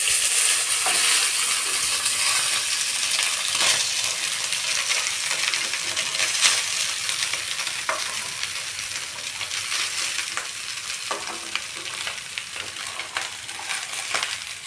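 Cooked rice stirred and fried in a pan for fried rice, a steady sizzle with scraping and clinking from the spatula throughout, close and fairly loud, with no talking.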